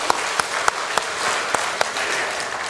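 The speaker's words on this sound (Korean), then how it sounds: "박수 주세요." Worshippers at a Sunday church service clap together in a dense, sustained wash, with a few sharp louder claps standing out at irregular intervals.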